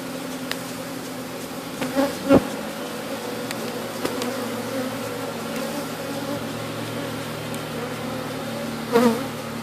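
Honeybees buzz around an open, year-old hive being split outdoors, a steady close drone with a few brief louder passes and faint knocks, no talk.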